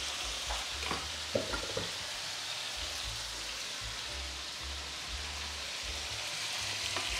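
Three cloves of garlic with a little salt and pepper frying in a pan, a soft, steady sizzle with a few faint clinks and stirring sounds, fairly quiet and without talk.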